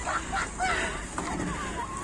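Ducks on an unfrozen hole in winter ice in Kyiv quack and call softly nearby in a short burst, with faint background noise.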